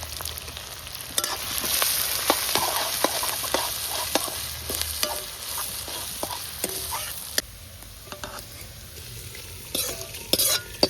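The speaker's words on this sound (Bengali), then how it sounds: "আগে পেঁয়াজ কুচিটা দেবো, তারপর আদা কুচি দিয়ে দিলাম, সঙ্গে কতগুলো চেরা কাঁচা লঙ্কা" Chopped onion, ginger and slit green chillies frying in oil for khichuri while being stirred, a constant sizzle with repeated scraping and clinking of a spatula against the pan.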